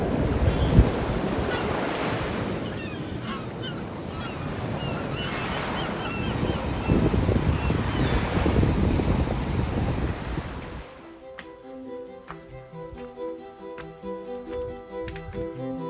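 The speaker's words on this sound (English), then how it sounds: "Time to take in the crashing waves and the ocean mist." Ocean waves crash and wash along the shore at Piran on the Slovenian coast, a loud, windy surf roar for most of the stretch before music takes over near the end.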